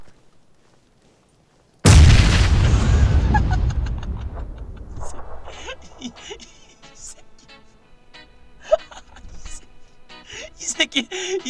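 Gunfire in PlayerUnknown's Battlegrounds: a single loud, close shot bursts out after a moment of quiet and rings off in a long decaying tail, followed by scattered fainter clicks and pops.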